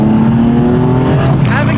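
A BMW M4's engine roars loudly and steadily with a deep, aggressive growl, rising in pitch toward the end as the revs climb.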